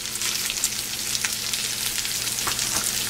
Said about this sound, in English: Now we're going to add our large onion that's been nicely chopped.